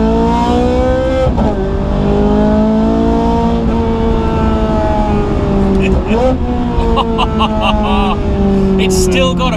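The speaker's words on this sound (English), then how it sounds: "Let's try and hear the car." A Ferrari 430 Scuderia engine drones loud and close, its pitch rising and falling through several gear changes as the car accelerates, with people talking over it.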